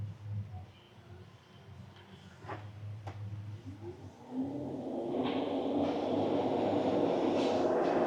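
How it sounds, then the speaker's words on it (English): With the engine stopped, a Citroen's electric cooling fans switch on at low speed. The broadband whoosh starts halfway through and settles into a steady, moderate rush. "Fans are being controlled and activated as it should be."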